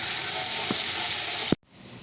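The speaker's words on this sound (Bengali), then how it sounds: "করলা ভাজিটা বসিয়ে দিলাম" Bitter gourd (karela bhaji) fries in a pan on a home stove. A soft, steady sizzle runs with one brief clunk, then the sound cuts off abruptly.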